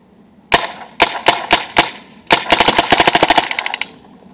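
A Spyder MR2 paintball marker firing, a few sharp single pops spaced about half a second apart, then a rapid string of close, loud shots, with no talking.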